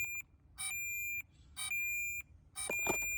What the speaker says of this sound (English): it will start flashing and beeping the drone to help locate it faster on your rescue